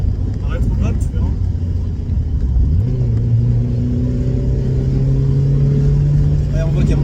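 Mazda Miata engine climbing steadily through the revs under acceleration, a loud continuous drone rising in pitch, heard from inside the car with people talking over it.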